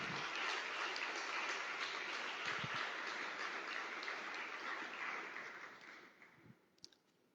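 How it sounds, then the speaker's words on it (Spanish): Congregation in a church breaking into sustained applause, a dense wash of clapping that holds steady for several seconds and then fades out, with a faint voice near the end. "Denle un gran aplauso al Señor"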